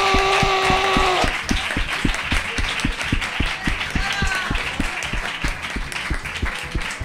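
Audience applause and cheering on the set of the Yo Nunca show as guest Susi Caramelo arrives, a steady wash of clapping under a voice and music that soon fade, holding loud for the whole stretch.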